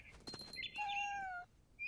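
A cat meows once in a long, clear, rising-and-falling cry in the video game What Remains of Edith Finch, preceded by a couple of soft thumps.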